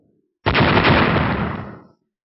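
A single loud, booming blast erupts suddenly and rumbles broadly before fading out over about a second and a half.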